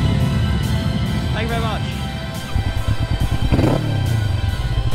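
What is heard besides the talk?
Kawasaki Vulcan S motorcycle engine revving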